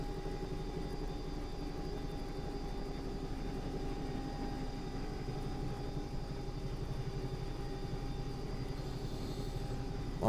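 A Bell 222 air ambulance helicopter in X-Plane 11, approaching at low speed with gear down, gives a steady, continuous rotor and turbine drone throughout, loud and unbroken with no talk.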